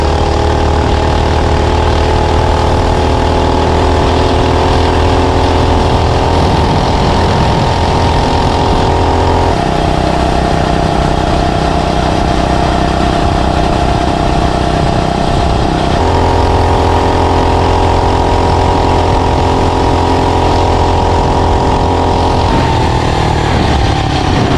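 A small budget mini bike engine runs continuously through a test ride, a loud buzzing drone that climbs and drops in pitch as the throttle changes.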